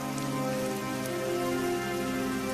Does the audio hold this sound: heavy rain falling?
yes